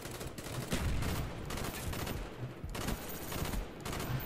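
Gunfire in the video game Black Ops 1, rapid bursts of automatic fire repeating across the clip, loud and dense, with no talk over it.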